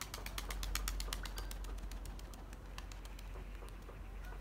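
Pigeons flutter and scrabble close by, with rapid clicking wingbeats and soft cooing in a quiet space.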